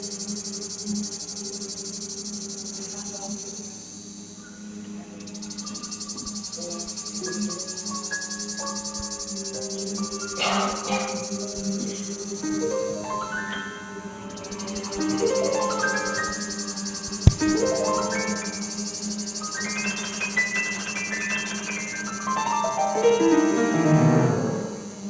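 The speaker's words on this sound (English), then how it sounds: "And the summer sweet song of the cicada," Cicadas sing through a summer scene in a steady, high, shimmering drone that swells and fades over about 25 seconds, with scattered chirps and tonal calls layered on top and no voices.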